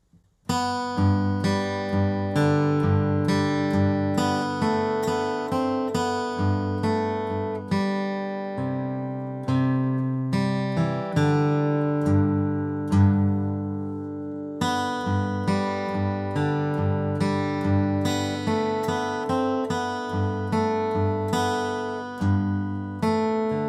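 Acoustic guitar flatpicks a lively melody of "I'll Fly Away" with low bass notes struck between melody notes, steady rhythm, close and clear, no voices.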